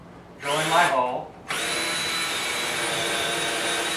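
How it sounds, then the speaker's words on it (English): Power drill with a 5/32 bit boring a pilot hole: a short whirring burst, then a pause, then a steady loud high motor whine that holds without a break, close by. "now I'm going to drill my pilot hole with the 5/32 drill bit"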